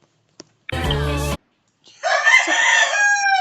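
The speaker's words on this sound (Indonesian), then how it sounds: "ada ayam berkokok-kokok guys" A rooster crows loudly and close by in a long, drawn-out call, following an earlier short burst of sound, with no talking over it.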